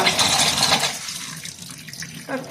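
Water splashes as it is poured over hot food in a bowl, a brief close rush that tapers off within a couple of seconds.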